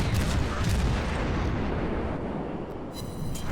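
Naval guns in the World of Warships game boom in a dense, rumbling barrage at moderate distance, heavy low-end firing that slowly tails off, with no talk over it.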